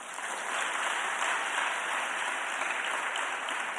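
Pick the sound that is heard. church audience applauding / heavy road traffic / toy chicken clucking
church audience applauding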